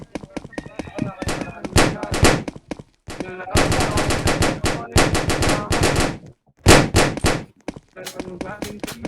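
Rapid bursts of gunfire in a Roblox shooter match, loud and close, firing in several long runs broken by short gaps, with a player's voice talking over it.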